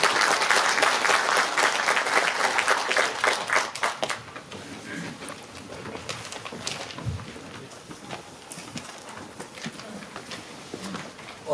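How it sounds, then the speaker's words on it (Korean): An audience at a book concert for a preliminary election candidate breaks into loud, dense applause that holds for about four seconds, then thins into scattered clapping and murmur as it fades. "뜨거운 박수 보내주시기 바랍니다"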